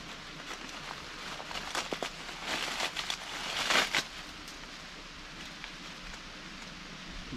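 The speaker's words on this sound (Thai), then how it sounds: "โอ้ฝนตกจะแล้วพี่น้อง" Rain falls outdoors during a hunt for a giant honeybee nest, soft pattering and crackling drops on surfaces, heavier bursts in the middle and fading to a light steady patter.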